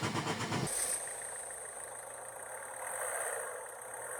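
A crash-damaged Peugeot 206's engine, after priming the fuel bulb, runs loud and rough for under a second, then cuts out abruptly, leaving a faint high whine and low background hum.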